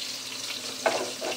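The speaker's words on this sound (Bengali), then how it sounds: "দেখো এদিকে মাছ ভাজা বসিয়ে দিয়েছি" Fish frying in a pan on a gas stove, a brief gentle sizzle with a faint clink partway through, quiet and nearby.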